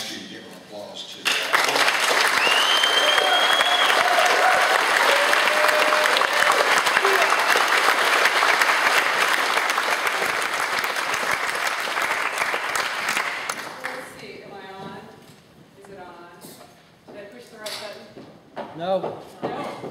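Audience at a community meeting in Bastrop, Texas breaks into sustained, loud applause that fades after several seconds, followed by quieter scattered voices and a person talking near the microphone.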